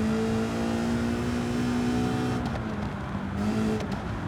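A car engine in the racing video game Gran Turismo 7 drones at a steady pitch with a dip and recovery partway through, close and continuous.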